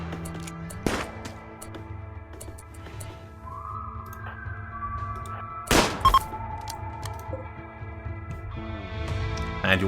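Pistol shots in the RimWorld video game, a few sharp bursts clustered near the middle, set among game sound effects and background music.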